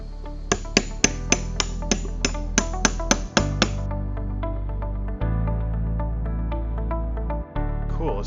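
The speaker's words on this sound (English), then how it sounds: "I'm going to use a chisel to clean that up" Chisel being struck to clean up a wooden table base: about a dozen sharp, ringing hammer-like taps in quick steady rhythm, close and clear, followed by quieter scraping and tapping over a constant hum.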